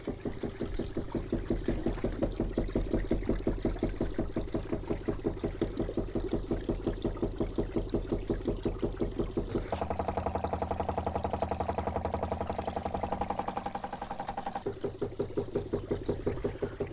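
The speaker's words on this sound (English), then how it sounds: "What I'm trying to do is to get the water flow rate and slope of the table right." A gold shaker table runs water and LA beach sand across its deck in a steady, fast rhythmic shaking with flowing water. The pulse shifts pitch partway through, then returns to its first pattern.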